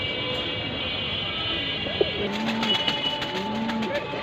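Racing pigeons coo softly at close range, a few low murmuring calls against a quiet indoor hum, with voices briefly audible.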